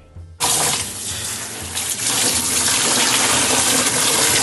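Water gushes on suddenly from a tap to rinse jet black dye out of hair, a loud, steady, close rush of running water that continues without a break.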